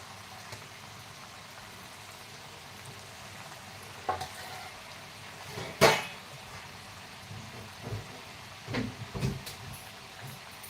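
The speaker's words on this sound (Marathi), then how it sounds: "इथे झाऱ्यावरती घेऊन चकल्यास सोडते तेलामध्ये" Rice chakli fry in hot oil with a faint, steady sizzle. A few louder crackles and clatters break through, one sharp burst near the middle, with no talking.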